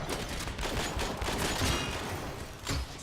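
Enemies shooting in the video game Warframe produce dense, overlapping bursts of gunfire and rapid automatic shots, loud and continuous across the whole moment, with no voices over them.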